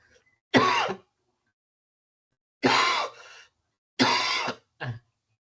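Three separate bouts of harsh coughing and throat clearing, close and fairly loud, separated by silent pauses, the last ending with a short extra cough.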